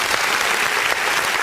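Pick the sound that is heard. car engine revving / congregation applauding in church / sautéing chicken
congregation applauding in church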